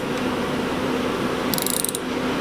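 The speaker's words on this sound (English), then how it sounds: "Just go ever so lightly on the one side to get it low enough that you can tighten up that other bolt to get your socket back down there" A socket wrench ratchets in a short burst of fast clicks while tightening an injector bolt on a Fordson Major diesel tractor, close and fairly quiet against a steady background hum.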